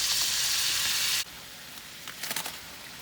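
Shrimp and ribeye steak sizzle in a hot pan, a loud steady hiss that cuts off suddenly after about a second, followed by quieter faint crackles and pops.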